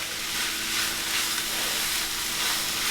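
Corned beef is stirred into onions in a hot pan, a steady broadband sizzle running the whole time with soft scraping of the turn, close and fairly loud, no voices.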